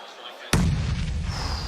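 A grenade blast in a PUBG Mobile esports match hits suddenly and loudly after a quiet moment, then rolls into a sustained rumbling roar with crackling debris.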